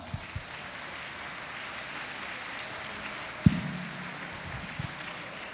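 Church congregation applauding, a soft, even wash of clapping heard from a distance, with a single sharp thump partway through.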